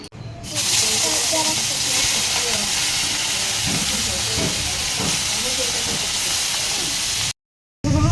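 Shrimp fry in hot mustard oil with a loud, steady, close broadband sizzle and hiss that holds without a break, while a voice speaks faintly beneath it.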